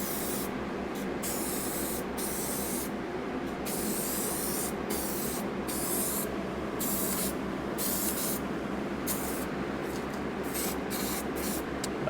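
Steady hissing spray from an aerosol paint can onto a 3D-printed helmet, continuous for several seconds with brief pauses between bursts, close and fairly loud.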